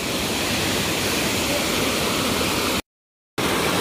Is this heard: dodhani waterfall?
yes